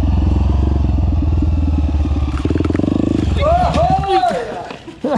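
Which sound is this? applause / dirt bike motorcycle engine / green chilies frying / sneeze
dirt bike motorcycle engine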